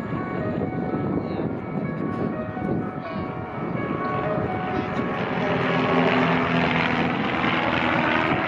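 Display team aircraft pulling up into the next figure of a formation routine at an airshow, a steady broad engine roar that swells slightly as they climb, heard alone without talk.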